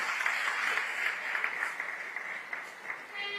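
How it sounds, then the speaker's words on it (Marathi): An audience at a saints' gathering event in Kolhapur applauds to welcome Devendra Fadnavis, a steady, fairly distant patter of many hands lasting the whole stretch without speech. "आपण जोरदार टाळ्या वाजवून देवा भाऊंचं स्वागत करूया"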